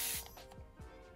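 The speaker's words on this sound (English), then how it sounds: "Next to that, we have this little spray bottle. The spritz on this is amazing." A small cosmetic spray bottle at a vanity desk gives one sharp, close hiss of a spritz at the start, followed by faint softer sprays or handling noises.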